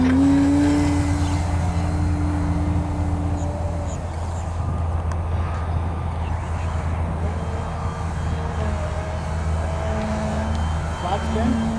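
An XR-52 radio-controlled model airplane flying a knife-edge wall maneuver, its engine a steady droning whine at a distance, while someone talks over it.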